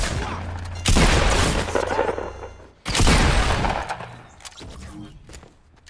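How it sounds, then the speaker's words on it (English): Semi-automatic shotgun fire in the video game Fortnite: two loud, sharp blasts about two seconds apart, each with a booming decaying tail, followed by fainter clatter. "She's using a shotgun from like that far range."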